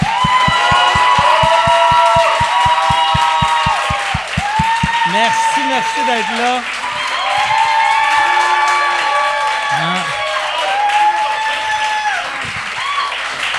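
Applause and cheering from a comedy audience for two comedians, a dense steady roar of clapping with whoops that carries on under someone talking and bits of other voices.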